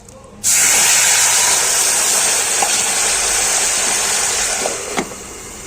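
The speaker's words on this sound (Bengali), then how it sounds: "এবারে আলু পটলটা ফোড়ন করে নিলাম।" Potato and pointed gourd hit hot oil tempered with radhuni, setting off an abrupt, loud frying sizzle that holds steady and strong, with a few faint clinks near the end.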